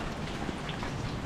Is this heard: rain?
yes